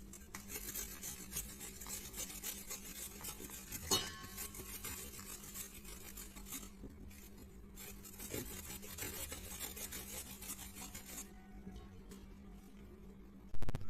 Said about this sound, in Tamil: முள்ளங்கியை நல்லா துருவி எடுத்தாச்சு